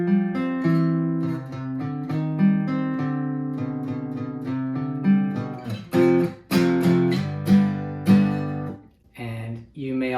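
Acoustic guitar plays the intro of a song, a steady picked pattern of ringing notes building into stronger strummed accents near the end, close and clear with no talking.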